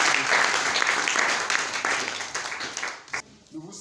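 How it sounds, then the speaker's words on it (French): Church congregation breaking into strong applause, thick crowd clapping that holds and then fades out near the end, with voices mixed in. "On acclame la parole."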